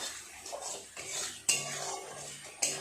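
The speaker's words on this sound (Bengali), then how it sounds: "খুব ভালো করে মশলাটাকে কষিয়ে নিলাম" A spoon scrapes and clinks against a pan as spice paste is stirred and sautéed, with sharp metallic knocks at intervals over a soft, continuous rustle.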